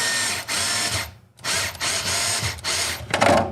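A power driver with an Allen key bit runs screws in, three loud whirring bursts separated by short pauses, close up with no talking.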